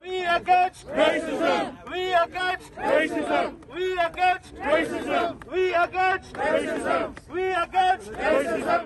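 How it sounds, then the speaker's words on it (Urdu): Demonstrators at a Muslim and Sikh community protest against racism chant slogans in a repeated call-and-response rhythm, roughly one phrase per second, loud and close. "اس دوران مظاہرین نعرے بھی لگا رہے تھے۔"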